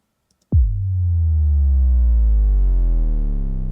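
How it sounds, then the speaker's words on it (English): A single deep sub hit for a film score lands with a sharp onset, then swells into a sustained, booming low tone that rings loud and alone for several seconds. "Sub hits."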